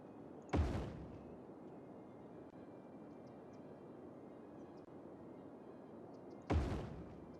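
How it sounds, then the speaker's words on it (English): Two sharp booms, each fading quickly, go off about six seconds apart in the city-building game Cities: Skylines, faint over a steady quiet ambient bed. "I heard an explosion!"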